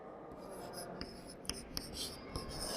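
Marker or chalk writing on a board during a class 8 maths lesson, with faint scratchy strokes and a few soft taps spread over a quiet background.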